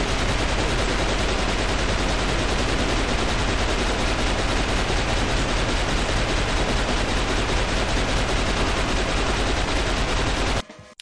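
Continuous rapid gunfire in the shooter game XIII, a loud unbroken automatic burst lasting many seconds before cutting off abruptly at the end.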